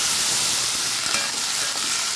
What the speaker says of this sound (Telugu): ఎండుమిర్చి తీసి ఒక ప్లేట్లో వేసిన తర్వాత ఇప్పుడు టమాటా వేసుకోవాలి